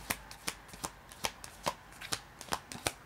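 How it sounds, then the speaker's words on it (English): Cards are shuffled close by in an even rhythm, with about a dozen sharp riffling snaps at regular intervals and nothing else heard between them. "Let's see what these cards have to say."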